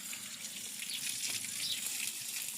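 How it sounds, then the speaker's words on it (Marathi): Water sprayed outdoors in a field gives a continuous hissing, splashing rush, close and steady for the whole stretch, with no talk over it. "पाणी मारित आहे ना तुमच्याकडे पाहते"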